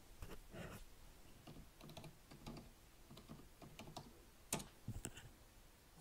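Someone types a new password on a computer keyboard during a Linux user setup, producing soft, quiet keystrokes in irregular bursts, ending with a couple of sharper key hits.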